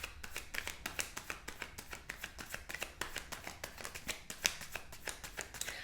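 Tarot cards shuffled by hand, a quiet, close, rapid run of crisp riffling clicks and snaps in an even rhythm, with no talking.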